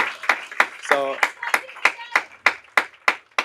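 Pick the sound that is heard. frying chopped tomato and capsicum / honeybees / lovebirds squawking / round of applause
round of applause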